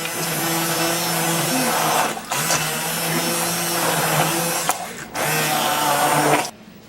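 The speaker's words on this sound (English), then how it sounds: "you're going to need your immersion blender" A steady whirring motor drone of an immersion blender blending potato leek soup, running loudly and continuously with a couple of brief dips in pitch and load, then cutting off.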